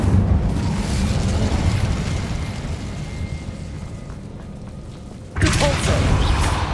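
An Incendio fire spell in Hogwarts Legacy roars as a sustained, loud rush of flame with a rumbling body, then a fresh burst of fiery whoosh flares up near the end.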